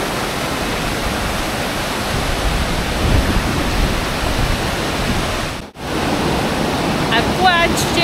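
A waterfall in northern Bali rushes in a loud, unbroken roar of falling water heard nearby, with a brief cut partway through and faint chirps toward the end.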